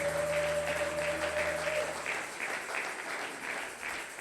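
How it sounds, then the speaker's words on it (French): Applause from a congregation at a Sunday thanksgiving worship service in church, a steady wash of clapping that fades slightly, with a brief sustained tone at the start. "Acclamons très fort pour Jésus."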